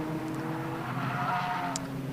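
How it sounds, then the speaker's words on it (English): Caterham Roadsport race cars wind out of a corner complex at Croft circuit, giving a faint, distant engine drone with a thin, brief tyre screech rising partway through. "I can hear screeches of tyres as the cars are winding their way out through the complex back onto the pit straight"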